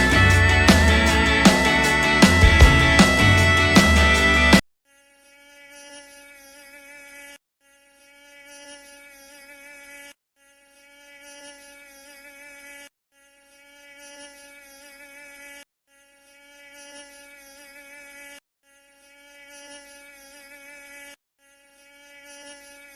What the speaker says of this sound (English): Mosquitoes are the future.